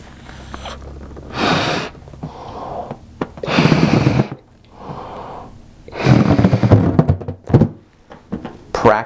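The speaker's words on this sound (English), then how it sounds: "practice breathing with just your belly and pushing that air into this balloon" Belly breaths are pushed out into a balloon in several separate bursts, each a breathy rush of air with puffing and rubbery thuds, close and fairly loud, separated by short pauses of near quiet.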